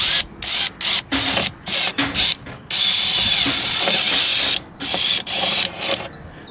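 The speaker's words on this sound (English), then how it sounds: "Drill a small pilot hole through, see what happens." A drill whirs in repeated short bursts, then runs longer as it bites through the thin skin of a Burstner 744 motorhome for a pilot hole, close and loud, stopping and starting several times.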